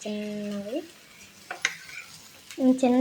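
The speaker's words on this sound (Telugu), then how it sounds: "ఆయిల్ వేసిన తర్వాత అట్టు వేసుకోవడమే." Dosa batter frying in oil on a pan makes a faint, steady sizzle with a few utensil clicks, while a voice speaks briefly at the start and end.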